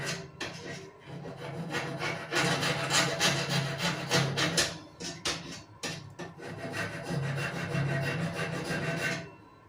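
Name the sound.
triangular file filing rust off oven connector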